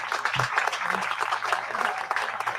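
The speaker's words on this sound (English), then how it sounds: "if you could give her a round of applause" An audience at a college hall ribbon cutting and dedication gives a soft round of applause, scattered claps blending into a steady, moderately faint patter for a few seconds.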